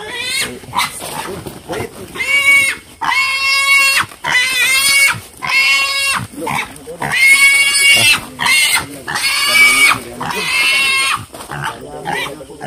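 A goat bleating loudly and repeatedly, about eight drawn-out nasal calls in steady succession, close by and dominating, with brief gaps between cries.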